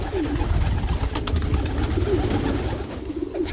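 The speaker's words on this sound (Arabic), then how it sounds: "شوف الحمام كيف يتروش" Pigeons splash while bathing in a water mix and coo steadily at close range. Soft cooing runs over continuous wet fluttering and splashing noise.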